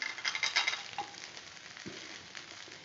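Sabudana khichdi with peanuts sizzles softly in a pan as it is stirred, with a few scraping clinks of the spoon over a steady frying hiss; no one speaks.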